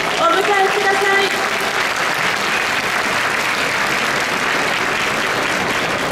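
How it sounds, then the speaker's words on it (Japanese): A crowd at a Tokyo festival plaza applauds to welcome Koenji Awa Odori dancers, a dense, steady wash of clapping lasting the whole stretch, with a voice heard briefly at the start. "どうぞ盛大な拍手でお迎えください"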